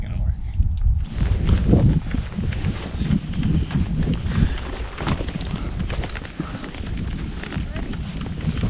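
Horse walking along a trail with a rider aboard, a rough continuous shuffle of hooves and tack close by, mixed with brushing movement, with people talking over it.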